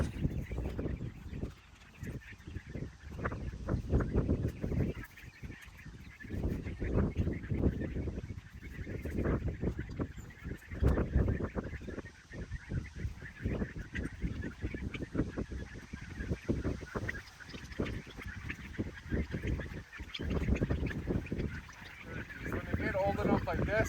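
Pasture-raised young turkeys call and gobble as they are let out into a large fenced pasture. Their dense, continuous chatter runs throughout, under and around someone talking nearby.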